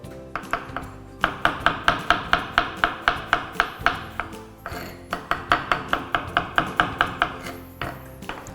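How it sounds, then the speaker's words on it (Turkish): A knife chops mushrooms steadily on a cutting board in quick, even strokes, two long runs of close, crisp taps separated by a brief pause. "vakit kaybetmeden mantarlarımı doğramaya başlıyorum"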